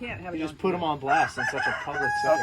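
Chickens cluck and a rooster crows in an enclosed space, under overlapping conversation between people.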